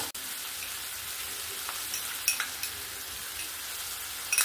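Cauliflower stalks sizzle and fry in a pan as mustard paste goes in, a steady hiss with a few light clicks and stirring taps.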